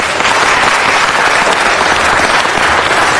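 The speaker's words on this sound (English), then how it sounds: "Give me another round of applause." Steady applause from an audience at a city council meeting fills the air, dense and fairly loud, holding evenly without a break and with no talking.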